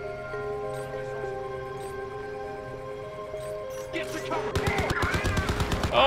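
Automated turrets in Crysis 3 open fire in a rapid burst of repeated shots, loud and close, cutting in after a stretch of steady humming tones.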